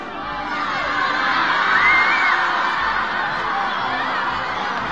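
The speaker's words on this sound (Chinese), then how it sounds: "孩子们欢呼着放飞了手中的气球" Crowds of children cheer and whoop at a grand 1999 National Day military parade and mass procession in Beijing as balloons are released, a dense, sustained wash of high voices that swells briefly and holds steady throughout.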